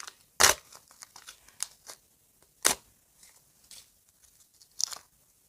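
Crisp paper crinkling and tearing in a few sharp bursts with quiet rustling between, close up and fairly soft, no talking.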